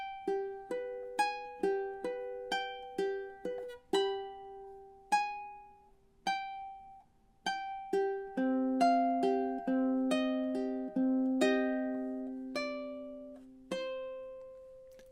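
A fingerstyle ukulele plays measures 9 to 12 of "Spanish Romance" softly. Plucked notes repeat in an even triplet pattern over a held bass tone, with a few notes left to ring, and no voice.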